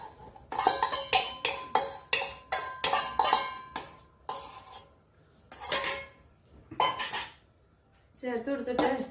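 Metal spoon clattering and scraping in a pan as beaten egg is stirred into cooked onions, a dense run of clinks and scrapes with brief pauses, loud and close.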